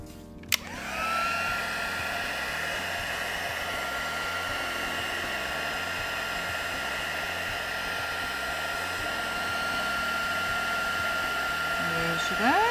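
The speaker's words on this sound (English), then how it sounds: "get the heat gun onto that" A heat gun melting embossing powder on an inked paper scene, a steady loud blowing whine with a faint hum that starts abruptly and runs continuously to the end.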